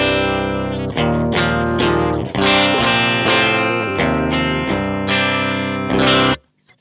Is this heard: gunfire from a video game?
no